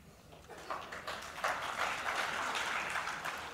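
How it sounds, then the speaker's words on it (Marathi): Crowd applause at a Raj Thackeray political rally, a broad wash of clapping that swells about midway and carries on steadily to the end, moderately loud with no talk over it. "टाळ्या वाजवण्यासारखं काय याच्यात?"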